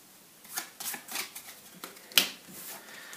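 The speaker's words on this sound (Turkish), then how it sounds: "Katlıyorum ve biraz karıştırıyorum şu şekilde." Playing cards being folded and shuffled by hand during a card trick, a quiet series of soft riffling flutters with a sharper snap near the end, close and alone.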